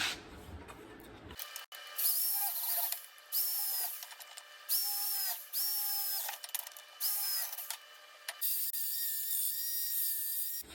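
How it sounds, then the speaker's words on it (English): A drill bores holes in the rusty sheet-metal cab corner of a 1978 Chevrolet C10 Sierra Grande pickup, in several close, loud whining bursts of one to two seconds each, separated by short pauses. "now I'll drill some holes in here, along here, here, and one or two right here to weld on."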